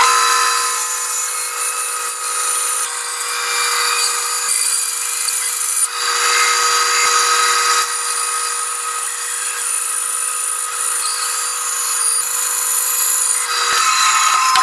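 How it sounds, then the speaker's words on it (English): A bandsaw cuts through a wooden 2x4 block, a steady bright buzzing hiss holding loud and continuous, with a brief dip partway through and no speech. "Now I'll go to the bandsaw."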